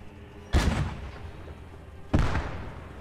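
Two heavy gunshots fired at a tank in the World War II shooter Post Scriptum, each a sharp loud crack with a rolling tail, spaced about a second and a half apart.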